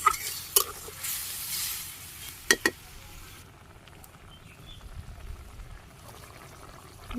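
A Bangladeshi vegetable curry with a little broth added bubbles in a pot during rooftop cooking, a steady hiss and simmer broken by a few sharp spoon scrapes and knocks, quieter toward the end.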